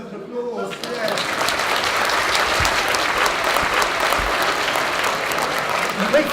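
A family science talk audience claps loudly and steadily after a candle fuel demonstration, the applause rising quickly and holding, with a few voices underneath.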